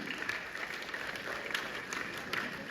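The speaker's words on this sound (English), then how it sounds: "therefore the clapping must go on." Audience applause at a student debate event, steady dense clapping from a crowd while speakers move to the podium, moderately loud and continuous without talk.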